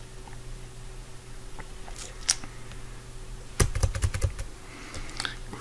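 Computer keyboard typing close by, a few scattered taps early, then a quick burst of rapid keystrokes in the second half, fairly quiet overall.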